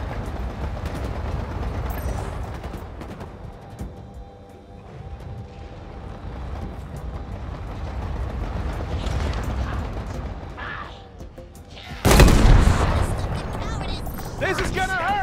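Dense, continuous gunfire and heavy booms in the video game Halo Infinite, with mechanical clatter and a loud blast burst near the end, mixed with voices talking over the combat.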